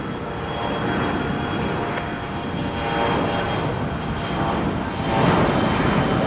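A Boeing 787-8 Dreamliner departs runway 30 left at Minneapolis–St. Paul Airport, a broad, steady jet engine roar that swells slightly toward the end, heard from a distance.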